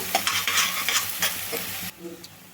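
Onions frying with a little salt on a medium flame for chole masala, a bright sizzle with quick stirring scrapes that drops suddenly quieter near the end, close and loud, no voices.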